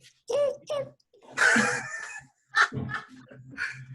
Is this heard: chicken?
yes